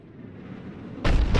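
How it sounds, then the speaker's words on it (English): Cannon fire in the video game Mass Effect 3, a heavy booming blast kicking in after a low rumbling drone, with a second punchy impact close behind, loud and alone. "Looks like Cerberus got that cannon operational, Commander."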